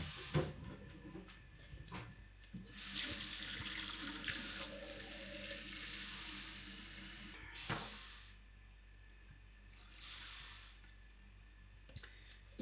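Kitchen tap running into a bowl to measure water for bread dough, the hissing stream turned on and off in several bursts with clinks and quieter gaps between, no talk.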